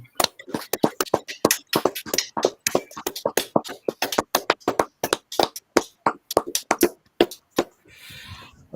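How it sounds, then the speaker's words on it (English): A ten-second round of applause on a talk show comes as a handful of loud, close, distinct claps in an uneven rhythm, thinning out before a short rustle at the end. "give him a 10-second applause"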